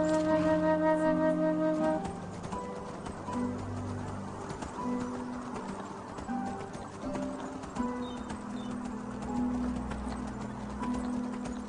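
Donkey hooves clip-clop at a steady walking pace in the fantasy game Enderal, moderately close, over low ambient game music with no talking.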